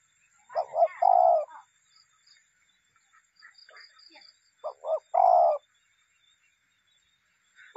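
A pigeon coos close by in two separate phrases, each a few soft, low throaty notes ending in a longer drawn-out coo, with quiet pauses between them.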